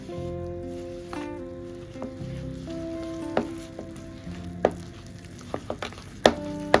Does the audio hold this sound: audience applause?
no